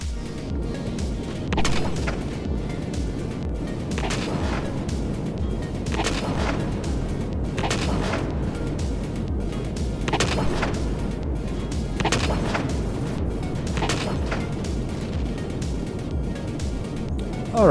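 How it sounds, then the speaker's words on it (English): Turret and player guns trade fire in Empyrion: Galactic Survival, a steady dense barrage of repeated booming shots with periodic heavier blasts roughly every two seconds, loud and continuous throughout. "there was a thing shooting at us, and we shot back"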